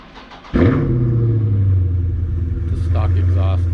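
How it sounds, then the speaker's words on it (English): Cold start of a Dodge Hellcat with stock exhaust: a sharp crank and bark as the engine fires, rising to a loud rumble that settles into a steady, deep idle, with a voice briefly heard over it. "first things first, cold start"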